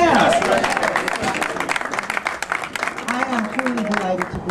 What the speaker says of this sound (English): Let's applaud ourselves.